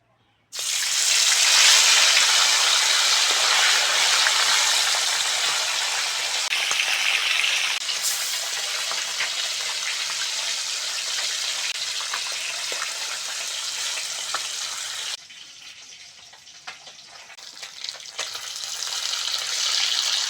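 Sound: fish frying in oil in a pan

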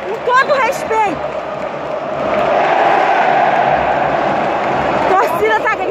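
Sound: football stadium crowd shouting at the Maracanã

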